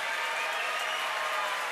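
An audience applauding at a televised gubernatorial candidates' debate in Nuevo León, a dense, steady wash of many hands clapping at a constant level throughout.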